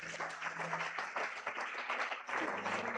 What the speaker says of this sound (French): Frappez maintenant les amis, acclamez bon Dieu.